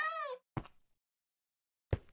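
A Minecraft cat gives a short rising-and-falling meow, followed by two brief soft thumps separated by near silence.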